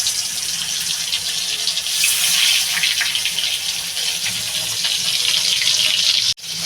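Fish sizzles as it goes into hot oil in a pan. The frying makes a loud, continuous crackling hiss that swells briefly and cuts off sharply near the end.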